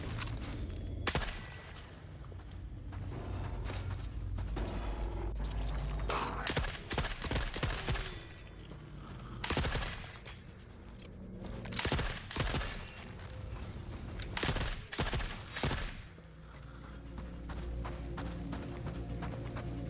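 Bursts of MG34 machine gun fire in the video game The Forever Winter, loud and close, repeated sustained volleys with short pauses and clanking mechanical sounds between them.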